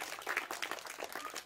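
Applause from an audience at a Ganesh mandal gathering: a brief patter of many hands clapping, fairly faint and distant, with no speech over it.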